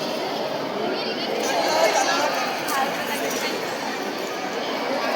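Dense crowd babble fills a busy trade fair hall, a steady wash of overlapping voices at moderate distance with no single speaker standing out, swelling slightly in the middle.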